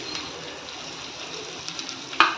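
Onion tempered with mustard seeds and cumin in hot oil, a steady close frying sizzle with a sharp spattering pop near the end, no talking.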